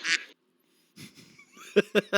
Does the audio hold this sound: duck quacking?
yes